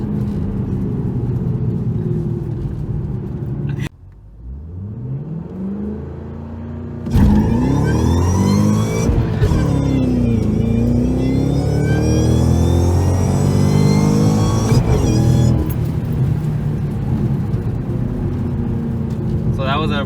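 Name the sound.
Shelby GT500 Mustang accelerating through gears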